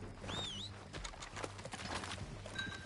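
Horse hooves clip-clop in the Red Dead Redemption 2 video game: a steady run of soft, close hoofbeats, with brief bird-like chirps and whistles above them.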